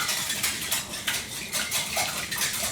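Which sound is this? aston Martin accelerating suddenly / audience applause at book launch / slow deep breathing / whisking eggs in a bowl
whisking eggs in a bowl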